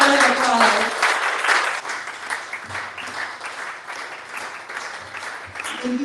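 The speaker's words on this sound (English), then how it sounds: "give them a round of applause" An audience at a book event on immigration delivers a long round of dense, steady applause that carries on at full strength, with a few voices faintly mixed in.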